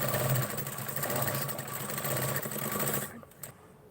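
A sewing machine stitches along a blouse edge, running in a fast, steady mechanical whir for about three seconds, then stopping abruptly, followed by a couple of faint clicks.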